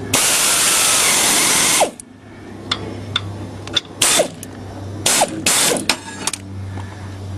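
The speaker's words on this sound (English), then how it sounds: "Now just to put the crankshaft bolt on." A ratchet tightens the crankshaft bolt on a lawn tractor engine in a series of short, sharp clicking strokes, close up, after a steady loud hiss at the start.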